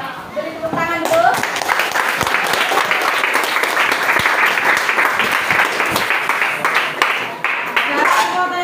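A classroom of students claps together after their teacher's prompt, a dense, steady round of applause running throughout with voices and chatter mixed in.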